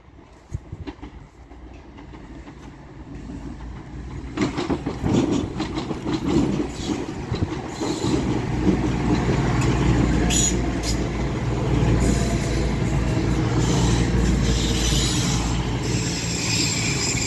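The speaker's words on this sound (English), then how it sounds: "now coming down will be another class 220 or 221 Voyager running from Manchester Piccadilly to Bournemouth" A Class 220 or 221 Voyager diesel train running from Manchester Piccadilly to Bournemouth approaches Stockport station, building from a faint rumble into a loud, sustained roar of engines and rolling wheels as it passes close by, with speech heard early on.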